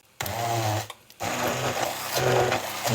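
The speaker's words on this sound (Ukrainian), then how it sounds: "гарненько погружним блендером збиваємо до однорідності" Steady mechanical whirring of an immersion blender running in two bursts with a short pause between, loud and close, its pitch wavering as it churns thick batter containing baking powder until smooth.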